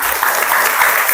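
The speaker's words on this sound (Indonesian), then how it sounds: "Dah, tepuk tangan untuk Zuralinka." A short burst of classroom applause for a student, steady and close, a quick round of clapping from a group of pupils.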